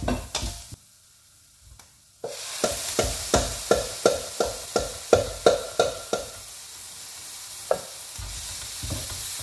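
Tomato puree is stirred into a frying potato and cauliflower curry (aloo gobi), with a quiet start and then a burst of sizzling and a run of about a dozen rhythmic scraping stirs, easing off toward the end.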